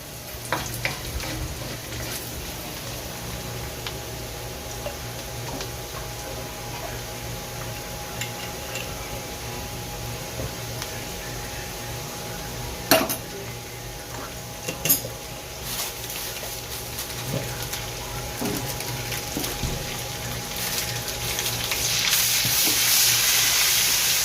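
Pancit bato noodles sizzling in a pan with alamang shrimp paste, a steady close frying hiss with occasional sharp clinks of a utensil scraping and stirring against the pan, the sizzle swelling louder near the end.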